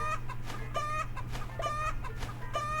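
Chickens in a chicken simulator video game give repeated soft clucks over a steady electronic hum and background game tones, close and moderately loud, with no talking.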